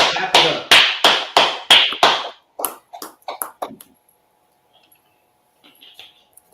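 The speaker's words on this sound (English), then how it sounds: "Clap it up, everybody." Clapping in a class, a series of about six loud, evenly spaced claps followed by a few scattered quieter ones, then near silence with faint voices.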